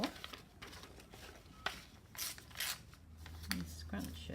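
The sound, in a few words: paper being scrunched for a craft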